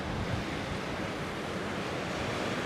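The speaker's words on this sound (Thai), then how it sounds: "น้ำซัดเข้ามานะครับคลื่นเนี่ย กระเด็นขึ้นมาถึงตรงทางเดินเลยครับ" Ocean surf surges into a seaside cave at Khao Tao near Hua Hin, splashing up onto the walkway in a continuous loud, broadband wash with wind rush over the microphone and no voices.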